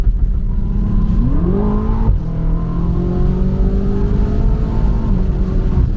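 A BMW F90 M5 sports sedan engine revs up hard, its pitch climbing steeply, then holds a loud, steady high-revving drone as the car accelerates at full power.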